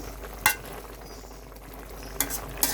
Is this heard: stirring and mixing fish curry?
yes